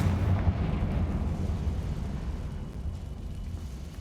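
A Confringo blasting spell in Hogwarts Legacy goes off as a low, muffled explosion followed by a fading rumble, moderately quiet and heard alone.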